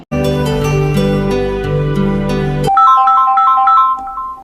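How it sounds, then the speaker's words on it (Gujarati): A mobile phone call rings with a loud, bright electronic ringtone melody, sustained chords giving way to a quicker stepping tune, alone with no voices. "એ તારા દોસ્ત કિશન ને ફોન લગાય"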